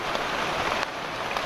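Rain falls in a dense, steady patter on surfaces at moderate loudness, unbroken through the short stretch, with a few faint individual drops standing out and no speech.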